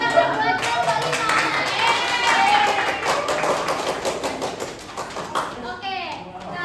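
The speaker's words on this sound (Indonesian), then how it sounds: "tepuk tangan buat kelompok 5" Students in a first-grade classroom clap together for a group that has just presented, a dense, steady patter of small hands lasting several seconds, mixed with children's chatter and voices.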